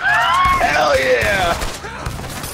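Gunfire in the video game Red Dead Online, a loud burst of shots and booming impacts layered with whining, sweeping tones and game noise, fading toward the end.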